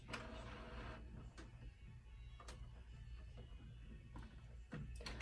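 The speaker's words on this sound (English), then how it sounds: "So it's gonna go ahead and do a print head cleaning." A DTF printer runs a print head cleaning cycle, giving a steady low mechanical hum with a few sharp clicks and ticks spaced irregularly over it, fairly quiet and close, with no talking.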